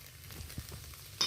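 Minced egg fries in a pan with a faint, steady sizzle, and a few soft clicks and stirring sounds come through. There is no talking.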